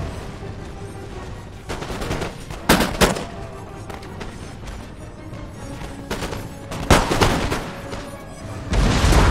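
Dragoons firing muskets in Empire Total War, with scattered volleys and crackling gunfire across a loud battlefield din and several sharper bursts near the start and end.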